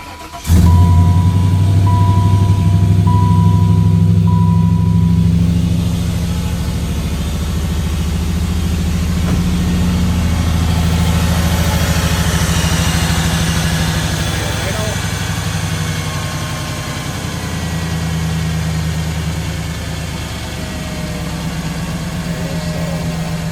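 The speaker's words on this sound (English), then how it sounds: "let's see what it does with the new idler air control when we fire her up" A hot rod car engine fitted with a new idle air control fires up and settles into a loud, close, steady rumbling idle whose pitch shifts slightly as the revs change, with voices talking over it.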